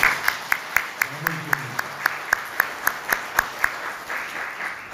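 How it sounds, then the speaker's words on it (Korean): A church congregation applauds steadily for about five seconds, with a sharp, even clap pulse running through the whole stretch and a brief murmur of voices partway through. "박수 한번 드립니다"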